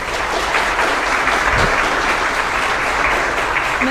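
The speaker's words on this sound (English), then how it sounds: "Let's give Amanda a round of applause." A fair audience applauds a royalty contestant, steady dense clapping filling the whole stretch at an even level, with no voices on top.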